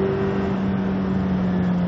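A race car accelerates at full throttle along a circuit toward the Hans Ernst bend, a steady loud engine drone with a rising tonal whine heard from onboard.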